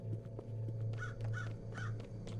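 Crow cawing in the video game Secret Neighbor, three or four harsh caws in a steady rhythm, moderately loud over a constant low ambient hum.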